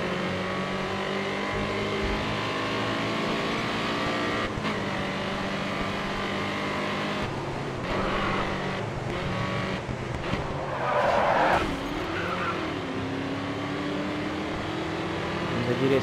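A pickup truck races around a short, twisty track in GRID Autosport. Its engine roars loud and continuous, with bursts of tire squeal and skidding through the corners.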